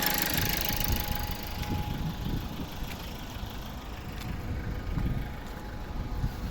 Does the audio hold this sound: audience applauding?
no